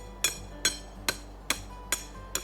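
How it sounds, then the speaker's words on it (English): Rebar is hammered into the ground to anchor landscape timbers, giving six evenly spaced sharp metallic strikes with a bright ringing edge, close and alone. "Pounding in a rebar."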